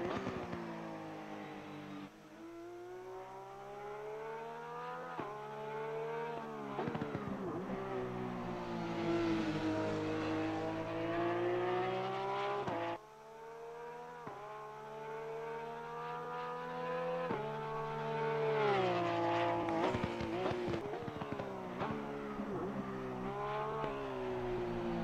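A Porsche 911 GT3 R race car in Assetto Corsa Competizione, on a race setup at Zandvoort, revs hard and climbs through the gears with drops between shifts. The engine is loud, continuous and alone.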